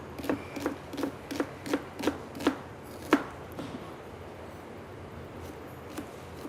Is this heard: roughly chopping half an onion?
yes